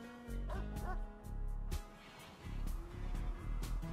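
Dogs barking and yipping in the colony survival game Rimworld, several short barks in quick bursts over a steady musical background, close and moderately loud.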